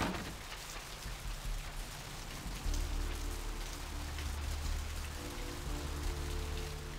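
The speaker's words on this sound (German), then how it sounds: "wenn man hier aus diesem Apartment rauskommt und wenn es dann so regnet" Rain falling in Santa Monica in the video game Vampire: The Masquerade - Bloodlines, a steady hiss of rain on surfaces with a low rumbling layer joining partway through, heard alone at moderate level.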